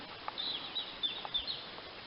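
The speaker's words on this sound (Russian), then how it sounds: "Звук птиц." Faint, high-pitched bird chirps repeat irregularly over a quiet, windless outdoor background in a pine and spruce forest, with a few soft taps scattered between them.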